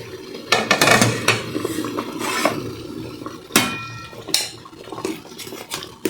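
Steamed chicken momos are lifted one by one out of a steaming pot, with irregular metallic clinks and clatters of utensils and lid over a soft background hiss.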